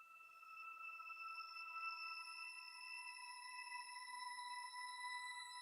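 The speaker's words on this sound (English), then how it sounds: "this is pretty much the mixing of the reverse whistle" A reversed whistle sample used as a beat effect sustains steady, bright tonal lines with rich overtones, played soft and alone with no talk.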